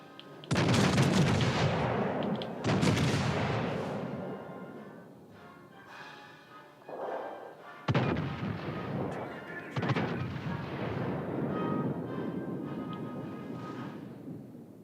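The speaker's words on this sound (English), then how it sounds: "Concentrate fire on that enemy warship" Warship gun salvos boom in the naval video game World of Warships: Legends, several loud heavy blasts spaced seconds apart, each followed by a long rumbling decay.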